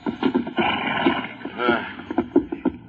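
Horse in an old Western radio drama, clopping hooves in uneven bursts with a wavering whinny in the middle, close and fairly loud.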